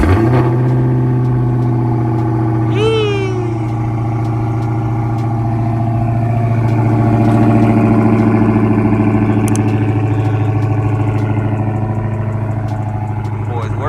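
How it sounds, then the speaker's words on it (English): A 2015–2021 Dodge Charger engine cold-starts and settles into a steady, deep idle, with a short rise in pitch early on before holding a constant close-up rumble. "So give y'all a little cold start in this thing"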